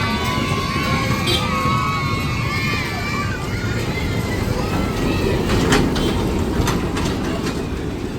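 A small electric toy train in a zoo rumbles along with a steady clatter while a crowd murmurs and voices chatter nearby; faint squeals rise early on.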